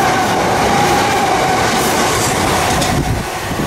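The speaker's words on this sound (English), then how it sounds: "GX Electrostars, 387 213 and 387 208 passing Preston Park Railway Station" Two Class 387 Electrostar electric multiple units in Gatwick Express service pass through Preston Park station at speed, a loud, close rush with rolling wheel clatter and a faint squeal that tapers off near the end.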